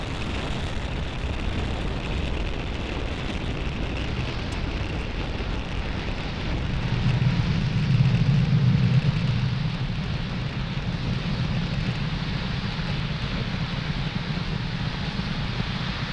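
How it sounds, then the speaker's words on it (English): A SpaceX Falcon 9 rocket lifts off carrying Globalstar FM15 satellites with a broad, rumbling roar heard from a distance. The roar holds steady and swells noticeably partway through. "Falcon 9 has successfully lifted off with Globalstar FM15 satellites"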